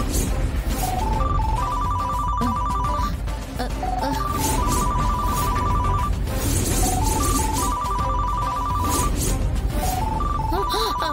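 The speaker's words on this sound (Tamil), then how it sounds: "போனை காணோம், ஆனா சவுண்ட் மட்டும் கேக்குது." A phone rings with a repeating rising melodic ringtone, cycling several times over steady background noise and muffled voices.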